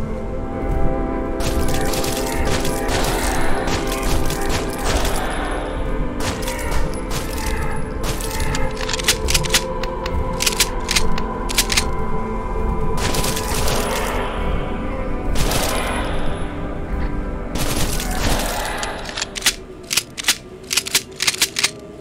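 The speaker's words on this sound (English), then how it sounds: "the machine gun is definitely the most powerful weapon right now" Machine gun fire in the video game Neural Rot: dense, loud bursts of rapid shots run almost continuously, with short gaps between volleys and a brief lull near the end.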